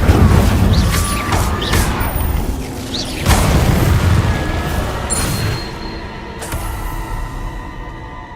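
Fire spell cast in a wizarding video game, giving several loud booming, crackling bursts with rumbling blasts that fade toward the end.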